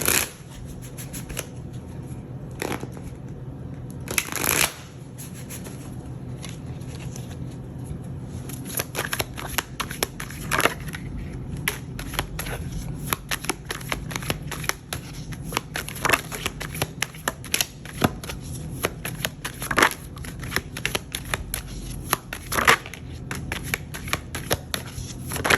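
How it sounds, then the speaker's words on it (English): A deck of playing cards is shuffled close up in a quiet room, a brief riffle burst near the start followed by a long run of crisp, irregular flicks and taps with no talking. "Shuffle this a bit better."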